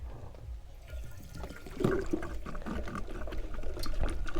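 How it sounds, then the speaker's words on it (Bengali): Petrol glugs from a bottle into a motorbike fuel tank, a continuous liquid pour at close range that grows fuller and steadier after the first couple of seconds. "তেলটা ভরছি আমি"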